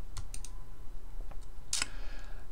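A few sharp clicks from a computer keyboard and mouse during a command-click, one louder crisp burst standing out near the end over a low steady hum.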